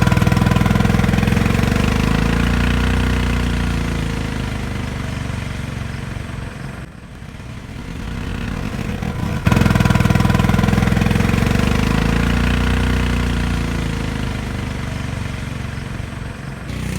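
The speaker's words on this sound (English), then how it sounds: "listen to the engine as the car accelerates" Honda Insight car driven by a 212cc lawnmower engine accelerating, a loud droning engine note that rises steadily, dips briefly midway, then picks up again for another long pull.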